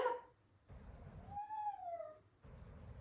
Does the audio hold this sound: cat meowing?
yes